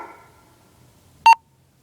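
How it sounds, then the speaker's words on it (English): A Motorola MTS2000 handheld radio gives a single short, clear power-on self-test beep, alone and fairly close after a faint bit of noise at the start. "You hear that beep, it means it's ready to go."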